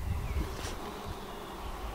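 Honeybees buzz at an old wooden bee house in an open-air museum, a steady low hum of many insects close by, with one louder pass partway through.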